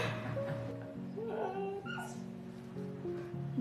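A husky puppy whimpers and yips in short, high, repeated cries, close by, with brief excited human voices around it.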